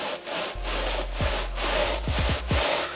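A stiff brush scrubs a sneaker during a foamy wet cleaning, producing close, rhythmic rasping strokes that repeat steadily with no talking.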